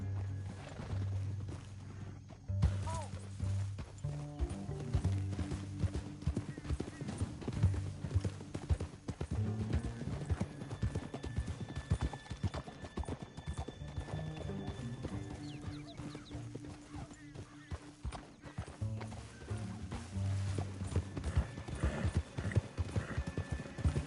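Horses galloping in Red Dead Redemption 2, their hooves clip-clopping in a steady, dense rhythm, close and continuous, with an occasional neigh over a low rumbling game soundtrack.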